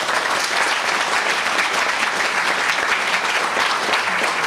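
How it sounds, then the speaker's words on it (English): A seated audience at a talk on Haiti claps in sustained, dense, loud applause filling the room evenly for several seconds, without voices. "please join me in giving them a warm round of applause"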